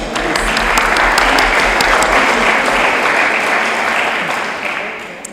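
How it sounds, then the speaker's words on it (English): An audience applauds warmly, a full even wash of clapping that gradually fades. "And I want to applaud them."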